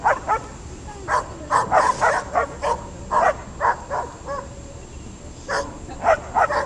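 A harbor dog barks repeatedly at sea lions, sharp yips and barks coming in irregular bursts, fairly close and loud against a quiet waterfront background.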